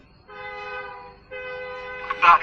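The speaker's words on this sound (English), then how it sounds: "Is it some train station?" Train horn at a train station, two sustained blasts heard moderately loud at a distance, followed by a brief voice at the end.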